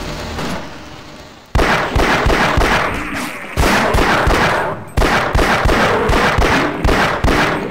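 Loud, close gunfire from Barney in Half-Life: Source, with sharp repeated shots arriving in several dense volleys separated by brief pauses and echoing tails.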